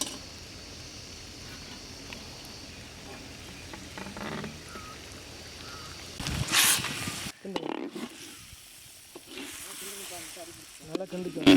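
Beaten egg poured into a pan of cooked vegetable gravy sizzles and hisses, growing into a louder burst of frying partway through, with a person talking nearby.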